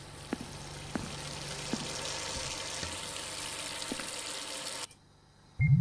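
Steady running water like a tap pouring in a ghost-hunting video game, with faint clicks and knocks over it, then it cuts off abruptly into near silence before a low thump.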